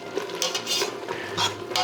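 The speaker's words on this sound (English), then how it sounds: "And we'll give that a stir." A spoon stirs beef stroganoff ingredients inside an Instant Pot, giving a few soft scraping and clinking strokes against the metal insert. The sound is brief, close and fairly quiet.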